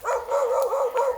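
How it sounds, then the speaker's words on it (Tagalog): A dog on a trip to a mountain gives a quick run of high, yappy barks, close and loud, chained tightly together in about a second with a slightly whiny tone. "Ayan ang mga aso."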